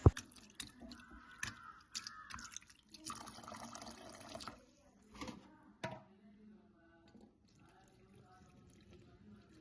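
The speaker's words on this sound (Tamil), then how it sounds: "அரிசி தண்ணியை வடிச்செடுத்த பிறகு ஃப்ரெஷ்ஷான தண்ணியை விட்டு நல்லா அலசி கழுவி கொள்ளணும்" Rice being rinsed and swished in fresh water for a sweet rice halwa, with soft splashing and drips in uneven bursts, louder early on and fading to quiet trickles toward the end.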